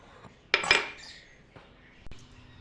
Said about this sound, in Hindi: सिल्वर के बाउल के अंदर अभी मैं डालूंगी चीनी